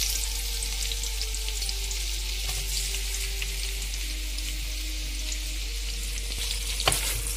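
Chopped onions frying in hot oil already used for frying fish, for a fish biryani, a loud continuous hiss and crackle close by, with a sharp clink near the end.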